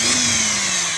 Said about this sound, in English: super low profile angle drill that fits in all kinds of places where a normal drill won't fit